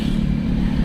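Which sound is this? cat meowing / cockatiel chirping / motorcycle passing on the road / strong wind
motorcycle passing on the road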